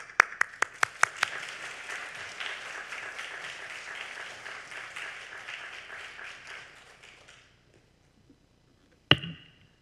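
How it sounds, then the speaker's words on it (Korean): Church congregation applause welcoming a speaker, opening with a few sharp separate claps that swell into steady clapping, then fade to quiet before a brief knock near the end. "우리 나오실 때 커다란 박수로 환영해 주시기를 바랍니다."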